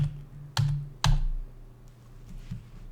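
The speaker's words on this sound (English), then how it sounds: "I'm using the cursor keys now." Two sharp, close clicks from a computer keyboard's cursor keys come in quick succession, with a softer third tap after a pause, over a faint steady hum.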